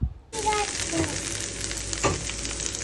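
Sliced okra (ladies finger) dropped into hot oil in a pan bursts into a steady, loud sizzle that continues unbroken, with faint stirring scrapes.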